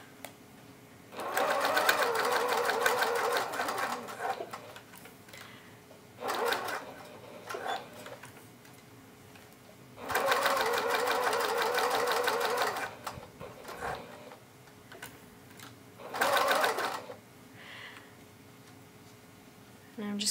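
A sewing machine top-stitches tote bag fabric in three long runs and a few short bursts, rapid and whirring up close, with quieter pauses between.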